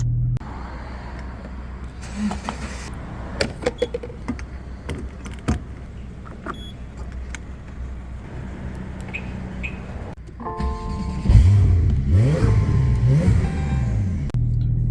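A car pulling in at a gas station, low engine rumble with scattered clicks and knocks, then a louder revving swell near the end, close by and without talk.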